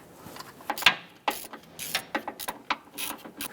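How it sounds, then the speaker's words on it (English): A ratchet clicks in quick bursts as it snugs a serpentine belt tensioner bolt on a 2008-2013 Nissan Rogue, crisp close pawl ticks in short irregular runs, no talk. "Go ahead and snug that bolt down."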